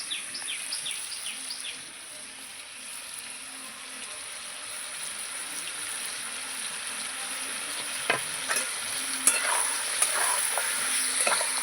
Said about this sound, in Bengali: দিয়ে একটু তেলের মধ্যে নাড়াচাড়া করবো পেঁয়াজটাও দিয়ে দেবো